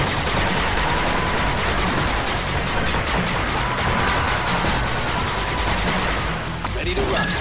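Machine gun turret fires continuously in the 8-Bit Armies strategy game, a dense, sustained rattle of rapid shots that stays loud throughout and thins slightly near the end.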